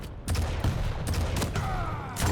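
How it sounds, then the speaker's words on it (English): Shotgun blasts and dense gunfire in a 2v2 team deathmatch of an arena shooter, with several sharp shots in quick succession over a busy, continuous game soundscape. "Huge damage from Cook before he dies there to Klub's shotgun"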